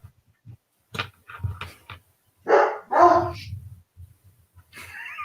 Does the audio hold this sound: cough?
no